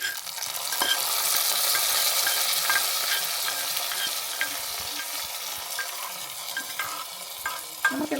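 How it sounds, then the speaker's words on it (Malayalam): Hot oil sizzles steadily as a fried tempering is poured into a green apple curry, with faint clinks of a utensil over the crackle. "ഈ വറുത്ത് വെച്ച് നമ്മുടെ വറവ് ഞാൻ നമ്മുടെ കറിയിലോട്ട് ഒഴിച്ച് കൊടുക്കണം"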